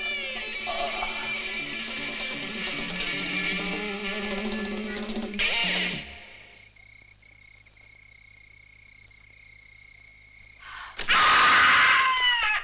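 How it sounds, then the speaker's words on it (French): A scream from a 1972 French film cuts in loud near the end, following a stretch of music and a quieter held tone in the middle. "Les cris viennent de là."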